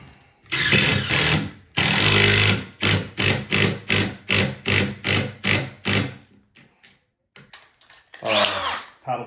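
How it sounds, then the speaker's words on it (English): An impact driver sinks a number 8 three-inch screw with a number 3 Phillips head while a stair railing and balusters are replaced, giving a long whir and then a loud, rapid run of about ten hammering bursts before a final short spin. "Then we use my impact with a number 8 3-inch screw with a number 3 Phillips head."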